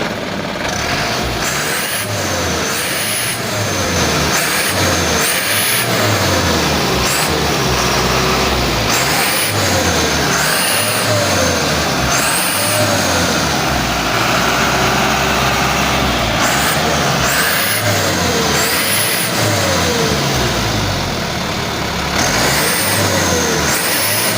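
A motorcycle with a standard exhaust revs repeatedly up and down, the engine note rising and falling in regular throttle blips, close and loud.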